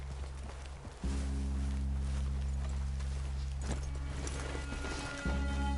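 Horses walk with steady clip-clop hoof beats in a video game set on a hill near a cabin, close and continuous over a low, constant droning background hum.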